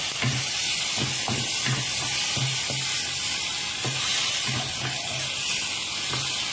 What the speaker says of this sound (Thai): ผัดพอสุกสักหน่อยนะคะ